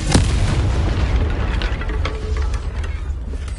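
A Confringo fire spell in Hogwarts Legacy lands with a loud booming blast near the start, then a rumbling low roar fades while scattered crackles and small pops follow.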